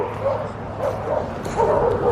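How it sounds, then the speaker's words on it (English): Several dogs barking outdoors in Healy, Alaska, near employee housing, with repeated yips and woofs at moderate distance and a faint voice in the background. "some dogs barking over here"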